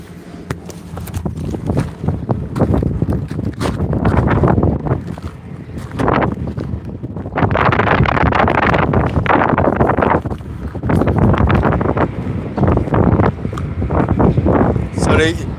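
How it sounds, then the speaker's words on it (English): Gusty wind rumbles and blasts against the microphone in loud surges, with someone talking over it outdoors on concrete. "And the wind is mad windy."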